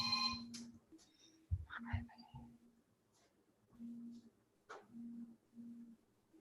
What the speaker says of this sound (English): Let me just stop my phone.